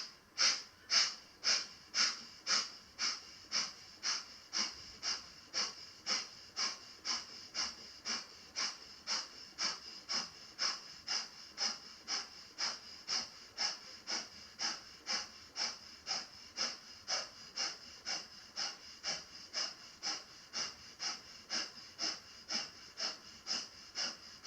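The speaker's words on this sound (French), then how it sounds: "Expire de nouveau, respiration de feu." Rapid, rhythmic breath-of-fire exhalations during a hatha yoga class: a steady train of about forty sharp, forceful nasal puffs, evenly spaced and close, with no talk.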